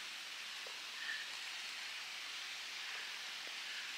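Heavy rain comes down again at a riverside fishing spot as a continuous broadband hiss with a few faint thuds, a steady wash of rainfall without talk.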